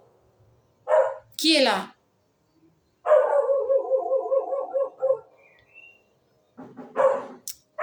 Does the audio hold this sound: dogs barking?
yes